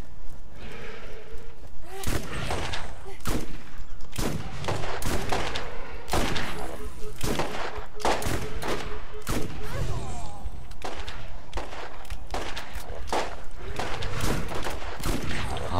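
Gunfire from the video game Borderlands, with rapid bursts of shots and heavy impacts striking in irregular clusters, loud and close, mixed with game effects and occasional talk.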